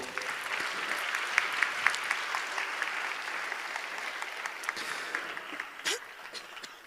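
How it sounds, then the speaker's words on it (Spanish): Audience applause closing a plenary lecture at a conference, a fairly soft, even patter of many hands from a mid-distance crowd, steady throughout with a few sharper claps standing out near the end. "Lo despedimos con un fuerte aplauso"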